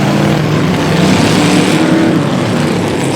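Vintage late model and modified race cars roar together as a race gets underway, a dense, loud, continuous engine rumble from a pack of cars with no pauses.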